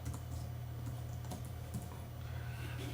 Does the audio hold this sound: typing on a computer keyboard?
yes